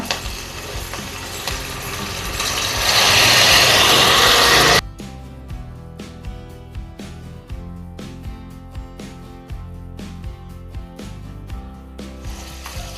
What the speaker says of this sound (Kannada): ಉದ್ದಿನಬೇಳೆ ಕಡಲೆಬೇಳೆ ಸೈಡಿಗೆ ಹಾಕಿ ನಾನು ಫ್ರೈ ಮಾಡ್ತಾ ಇದ್ದೀನಿ